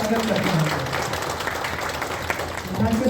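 Loud, dense audience applause welcomes students at a school event, a continuous wash of clapping with voices faintly audible beneath it.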